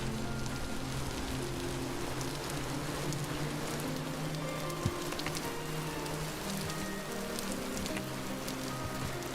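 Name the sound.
rain from weather system in Vintage Story video game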